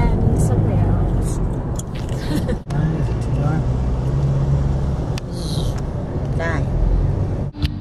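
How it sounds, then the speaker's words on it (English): Street traffic in Bangkok rumbles close by, a steady roadway drone with passing vehicles and brief mechanical bursts, while people talk quietly over it. "Traffic again"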